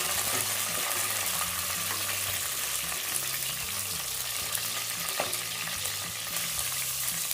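Green peas and dry spices fry in hot ghee, a steady bright sizzle with occasional crackles and light stirring clatter, close and continuous, with no talking.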